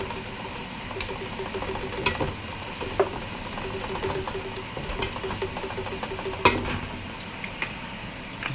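Tomatoes sizzle steadily in a pan with ginger and garlic for chicken biryani, a continuous close frying hiss broken by occasional stirring clinks.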